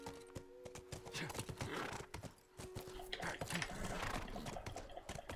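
Horse hooves clip-clopping in The Last of Us video game, a steady run of close, sharp clops with occasional snorting, set against in-game ambience and faint musical tones.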